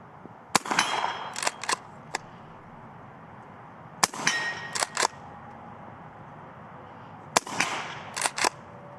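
Henry Supreme lever-action rifle chambered in 300 Blackout being worked by hand, three cycles of the action, each a sharp metallic clack followed by quicker rattling clicks, close and crisp with pauses between.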